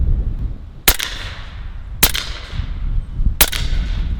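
A Western Sidewinder S .30 caliber full-auto air rifle fires pellets at a target outdoors in wind, three sharp loud cracks spaced about a second apart, each with a short ringing tail over a low rumbling background.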